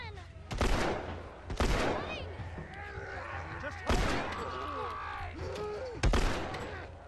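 A handful of loud, widely spaced gunshots in The Last of Us, about four sharp blasts with echoing game ambience and character voices between them.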